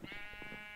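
Sheep in the game Minecraft give a short, soft bleat with a wavering, pulsing tone, heard briefly and fairly faint with no talking over it.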